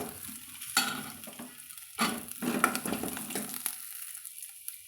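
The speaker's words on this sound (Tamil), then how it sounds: "நல்லா கண்ணாடி பதத்துக்கு நல்லா வறுவிட்டு வந்தாலே போதுங்க வெங்காயம்" Onion sautéing in a pan as the base for a soup, a steady sizzle close by with a few louder scraping stirs of a spoon against the pan, no voices.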